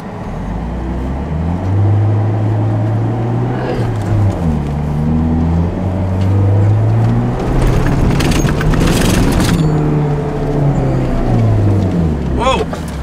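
A Suzuki 4x4 with its rear diff lock engaged climbs off-road, its engine droning loudly and rising and falling in pitch as the throttle changes, with people talking over it.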